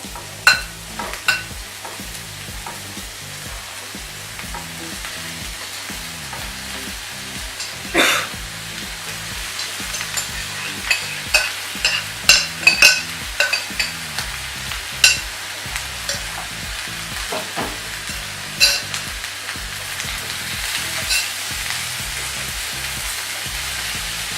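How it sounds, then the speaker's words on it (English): Seasoned vegetables stir-fry for chop suey in a hot pan, with a steady sizzle throughout and repeated sharp clacks of stirring scattered over the whole stretch. "Now I'll add the vegetables, seasoned vegetables, right?"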